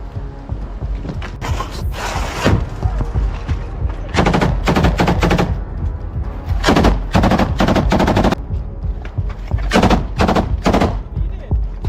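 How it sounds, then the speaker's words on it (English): Gunfire from small arms and grenades in frontline basement clearing in Ukraine, loud rapid bursts of automatic fire and sharp single shots in clusters across the stretch, close and harsh with no talking. "Basements are actively cleared using grenades and small arms."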